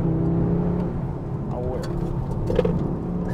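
An Audi RS3 Performance engine drones steadily from inside the car as it drifts through rally-style hairpins, with a brief voice over the constant hum.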